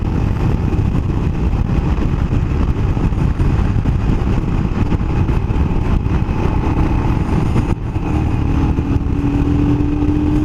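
Royal Enfield motorcycle climbing a steep mountain incline, its engine droning steadily and loud throughout with wind noise, pulling harder near the end as the revs rise.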